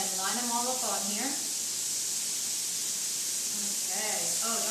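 French toast sizzling on a hot griddle, a steady loud hiss throughout, with someone speaking over it at the start and end.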